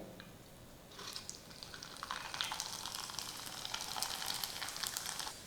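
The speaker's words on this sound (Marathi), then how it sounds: "अजून एक दोन पापड तळून घेऊया" Ragi (finger millet) papad frying in hot oil, with a faint, soft bubbling hiss that swells into a fizzing crackle after the first second and then holds steady.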